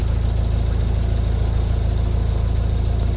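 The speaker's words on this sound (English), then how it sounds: "Like a little diesel engine there, isn't there?" A small diesel boat engine chugs steadily and loudly nearby at a canal lock, a constant low throbbing hum with no voices, cutting off abruptly at the end.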